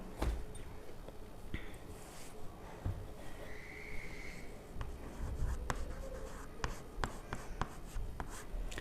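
Handwriting during a maths lesson: a pen scratches and taps across paper in short, soft strokes, close and quiet against a faint room background.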